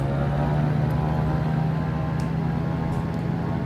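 Twin engines of a C414AW Chancellor in MSFS 2020 drone steadily at high power on takeoff, a loud continuous hum with a strong low tone and no talk.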